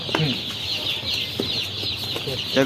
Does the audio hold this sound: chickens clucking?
yes